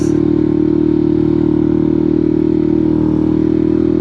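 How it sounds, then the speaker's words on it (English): A BMW G310R motorcycle holds a steady engine drone on an open road while other motorbikes ride past on a mountain pass, the engine note constant and close with no speech. "Oh, bro, we got some more bikes."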